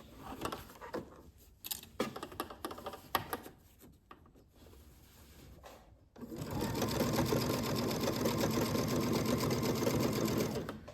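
A sewing machine stitches a one-piece fabric bread bag, starting with scattered clicks and handling noises, then running in a fast, steady, loud whir for the last several seconds without speech.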